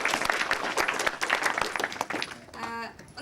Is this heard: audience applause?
yes